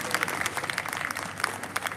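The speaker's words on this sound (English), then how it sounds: "Can we have a round of applause for Sonia ji and Mr. Gurcharan Das?" Audience applause at the Delhi Literature Festival, a steady wash of many hands clapping throughout, moderately loud in a large room, with some crowd murmur mixed in.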